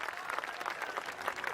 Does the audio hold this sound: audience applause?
yes